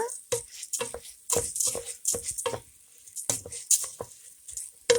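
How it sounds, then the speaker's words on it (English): Risotto rice grains being stirred and toasted in a hot pan, giving soft scraping and light sizzling in short repeated bursts, fairly close and moderate in volume. "we want to stir this around, kind of toast it a little bit"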